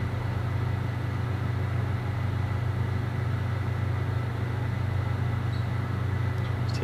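A 2020 Arctic Cat Alpha Riot snowmobile engine with a Bikeman stage 2 setup runs steadily on a dyno, a loud continuous mechanical drone with no clear rise in pitch.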